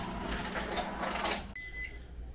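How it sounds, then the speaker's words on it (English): A steady mechanical hum of a microwave oven heating two hot dogs, which stops after about a minute and gives way to a single sharp electronic beep. "place them in the microwave for 1 minute"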